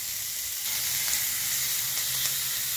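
Onion fries in a pan as part of a prawn bata dish, giving a steady, close sizzle that hisses evenly the whole time with no talking.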